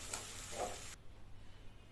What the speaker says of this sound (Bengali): টমেটোর কাঁচা গন্ধটা চলে যাওয়া অবধি টমেটোটাকে ভাজবো।